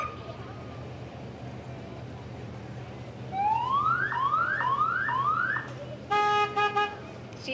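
A U.S. Coast Guard aids-to-navigation truck in an Appleton Flag Day parade sounds its siren in several rising wails, then gives short repeated horn blasts, loud and close over steady street crowd noise.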